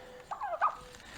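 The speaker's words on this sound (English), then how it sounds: "Here's the turkeys." Broad-breasted white turkeys gobble twice in quick bursts, a nearby warbling call followed by a louder second gobble, over a quiet outdoor background.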